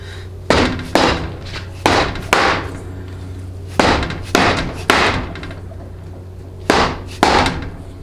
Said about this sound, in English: just simply beat it on with a soft hammer